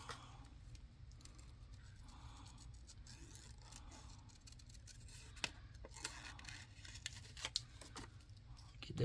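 Scissors snipping through paper in an indoor space, a faint irregular series of light cuts and rustles over a low steady background hum.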